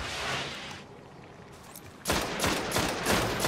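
Rapid gunfire in the video game Destiny as a player shoots down enemies, dense bursts of shots heard loud throughout with a brief lull before a heavier volley.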